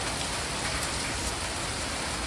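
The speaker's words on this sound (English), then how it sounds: "start raining again" Steady rain falls across a garden in July, a dense, even hiss of drops on surfaces that continues without a break.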